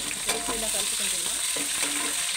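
Mutton biryani masala with bay leaf, shahi jeera, curry leaves, green chillies and mint being stirred in a pan, a continuous loud frying sizzle with faint scraping and a soft voice-like murmur underneath.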